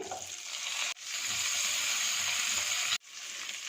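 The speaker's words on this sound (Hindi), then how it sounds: "इसके साथ ही इसमें आधा कप क्यूब्स में कटी हुई प्याज ये शामिल कर देंगे।" Cubed onions frying with garlic paste in a pan for white sauce pasta, giving a loud, steady sizzle that runs without a break apart from two short dips where stirring stops it for a moment.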